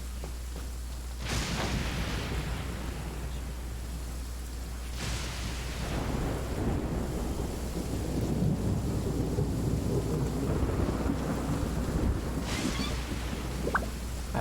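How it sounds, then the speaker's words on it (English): A storm in Genshin Impact: steady rain hiss over a low rumble, with several deep thunder rolls breaking in, loud and continuous with no talk. "I'm liking all the storm noises."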